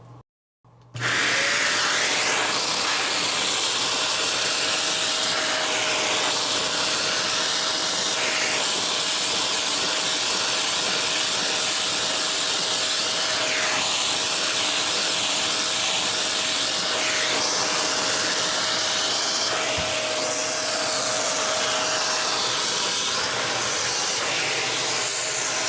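A Shark Navigator Lift Away upright vacuum cleaner switches on and runs continuously at close range, a loud steady motor roar with a constant whine, holding unchanged for over twenty seconds with no voices.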